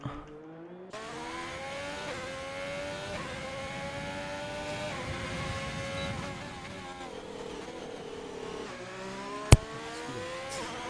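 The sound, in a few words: race car qualifying lap in a racing video game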